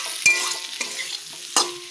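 Elephant foot yam being stirred and fried with spices in a pan: a steady sizzle broken by several sharp scraping strokes of the spoon, close and clear with no talk.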